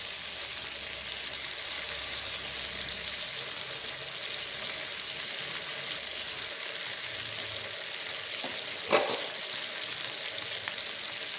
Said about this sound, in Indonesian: kemudian satu persatu kita masukkan ayamnya ke dalam teflon